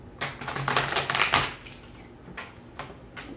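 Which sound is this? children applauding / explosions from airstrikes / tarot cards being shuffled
tarot cards being shuffled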